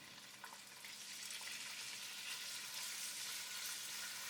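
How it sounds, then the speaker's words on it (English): Sliced beef frying in hot oil in a pot over high heat for a stir fry, giving a steady, dense sizzle with crackling that runs throughout at close range, with no voices. "Add the sliced beef into the pot"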